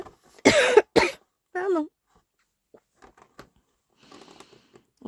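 A woman working at a sewing and embroidery session coughs twice in quick, loud bursts, then speaks a brief word, followed by quiet rustling and faint handling sounds.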